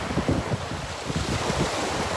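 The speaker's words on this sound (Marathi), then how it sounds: "आता थोड्याशा लाटा येत आहेत" Sea waves surge and wash onto a shore where fishermen cast nets, a steady close rumble of surf with some wind noise, no voices.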